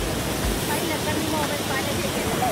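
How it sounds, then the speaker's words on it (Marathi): Heavy monsoon rain pours down outdoors, a loud, dense, unbroken hiss of falling water close around, with people talking faintly beneath it. "पावसाला कुडकुडी व्हायला आता लय जोरात पाऊस आहे"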